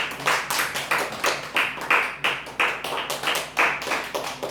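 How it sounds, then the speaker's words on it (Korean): A church congregation claps together during a Sunday service, producing a steady run of quick, evenly spaced claps of moderate loudness with no talking over them. "박수는 치고"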